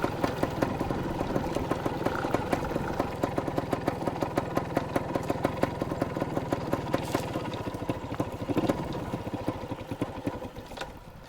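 A dirt bike engine idles in a rapid, even putter, holding a loud and steady beat at close range, then loosens and fades toward the end as it dies out.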